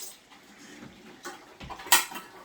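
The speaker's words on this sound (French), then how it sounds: "d'ailleurs je vais ouvrir le pot devant vous" A jar of ratatouille sauce is opened close by: quiet handling rustles, then one sharp click or pop as the lid gives way.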